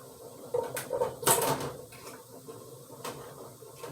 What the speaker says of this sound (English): I'm going to have to try to use these tongs to prop it in.